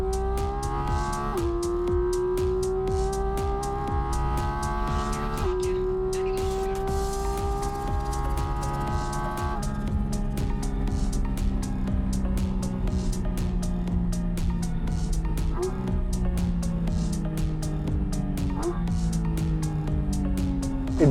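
Porsche 718 with about 500 horsepower lapping the Buddh International Circuit: a steady, loud engine note climbs and drops through repeated gear changes, heard continuously from inside the car.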